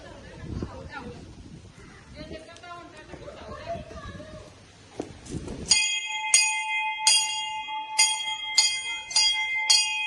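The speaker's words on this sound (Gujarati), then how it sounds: "મજા આવે હો, ઘંટી વગાડવાની" A temple bell rings loud and close in a steady, repeated series of bright metallic strikes, each tone sustaining into the next. Excited chatter and voices come before the ringing starts.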